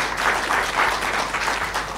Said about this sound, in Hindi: तो सर आप जोरदार तालियां।